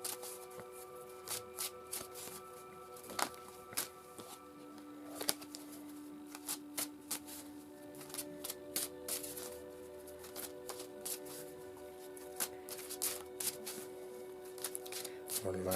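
A deck of oracle cards being shuffled by hand, with repeated crisp riffling bursts and sharp card snaps at an irregular rhythm, close and clear over a quiet background hum, with no talking.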